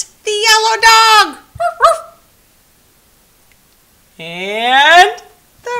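A dog close by gives a couple of yelping barks and short whimpers, then a pause, then a longer rising whine.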